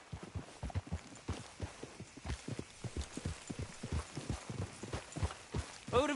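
Hooves clip-clop at a lively gallop from a horse in the video game Red Dead Redemption 2, a fast, even run of thuds at moderate volume, with a brief whinny near the end.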